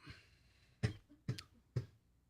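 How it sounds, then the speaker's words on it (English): Three short, soft coughs spaced about half a second apart, fairly quiet and close, with no talking. "I just coughed."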